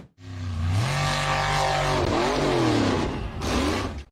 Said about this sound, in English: The blue car accelerated rapidly down a narrow, muddy ditch.